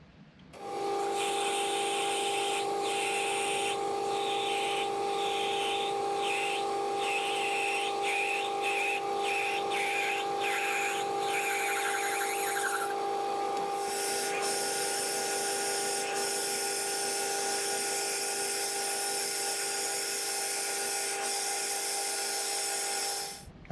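A lathe cutting a 3/4 inch thread into a homemade rotary earth clamp, giving a steady high whine with strong tonal lines and a scraping cut that changes character partway through, close and continuous without talk.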